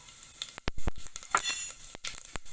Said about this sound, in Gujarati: સરસ આવી રીતે તતડે એટલે તેની અંદર આપણા ખડા મસાલા ઉમેરી દેશું